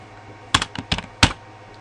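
Quick bursts of typing on a computer keyboard, a short cluster of sharp key clicks heard close up in a quiet room.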